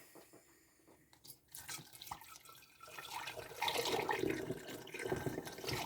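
Homemade almond milk is poured through a funnel into a jar, a soft, close liquid gurgle and splash that begins after a second of fumbling and continues unevenly.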